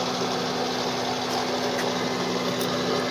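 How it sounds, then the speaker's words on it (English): A Bridgeport milling machine spindle runs with a steady mechanical hum and faint whine, a constant loud drone close by with a few small ticks, no voices. "we're going to hit the power button here and turn on the spindle"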